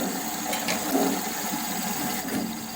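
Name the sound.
sawmill clutch spinning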